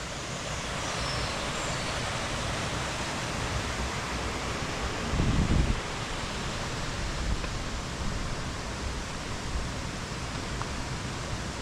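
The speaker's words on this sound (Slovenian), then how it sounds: "Slap naj bi bil visok namreč 70 metrov." A 70-metre waterfall in the Vražji prehod canyon, a steady broad rushing roar of falling water heard at a distance, even and unbroken, with a brief low thump partway through.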